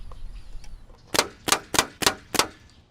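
Five sharp, loud impacts in a steady rhythm, hailstones cracking against solar panels, with quiet background between hits.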